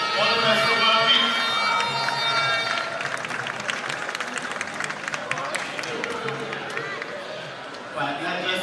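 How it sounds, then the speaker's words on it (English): A round of applause for a club captain at athletics trials fades under crowd chatter and a voice over a public address system, with scattered claps continuing in the background. "Give her a round of applause."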